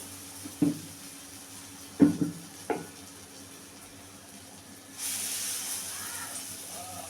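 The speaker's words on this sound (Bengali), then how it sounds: "তেল গরম হয়ে গেছে এবার বড়াগুলো দিয়ে একটা একটা করে দিয়ে দিচ্ছি" Khesari lentil fritter batter drops into hot oil in a kadai, a few soft plops and clinks followed by a steady, fairly close sizzling hiss that sustains to the end.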